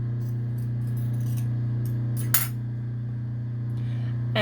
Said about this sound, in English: I'm going to chop some of that off.